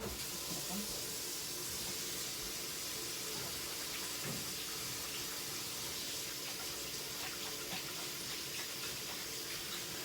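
Tap water runs into a kitchen sink while hands are washed, a steady, bright hiss and splash lasting the whole stretch, fairly close and unbroken, with no talk.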